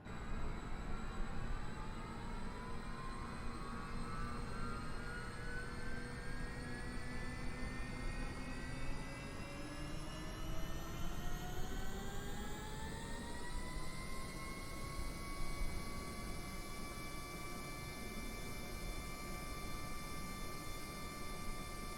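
A HondaJet in Microsoft Flight Simulator spools up at engine startup, a rising turbine whine that climbs steadily in pitch and then settles into a high, constant jet tone over a steady roar.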